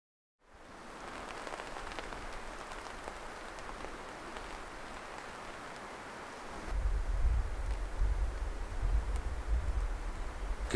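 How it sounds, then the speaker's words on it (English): Steady overnight rain patters continuously on a bushcraft hammock campsite, a dense hiss of drops on surfaces, growing heavier with a deeper low rumble in the final few seconds. "It's been raining all night"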